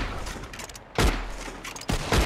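Lenny fires a gun in Red Dead Redemption 2: a few sharp, close gunshots at irregular intervals over low background game noise.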